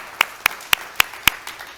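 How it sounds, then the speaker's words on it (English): At a storytelling night, one nearby person claps slowly and evenly, six crisp claps in a row, the last one softer, over a quiet room. "Let's give a round of applause to the performers"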